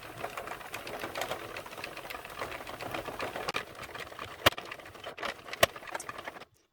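A 32-pin mushroom house knitting machine runs steadily with a dense, continuous mechanical whir and rapid clicking, moderately loud and close, with a few sharper clacks near the end before it stops.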